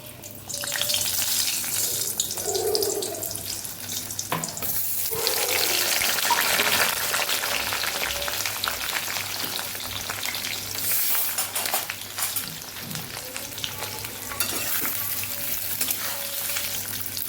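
Potatoes frying in hot oil, coated in a dahi aalu sabji preparation, sizzle steadily and fairly close throughout, with occasional clinks of stirring and no talk.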